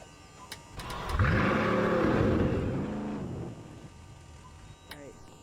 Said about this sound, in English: let me drive your car.